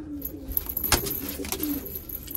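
A captured pigeon with small jingling bells on its feet coos in soft, repeated low calls, close by and alone, with no talking.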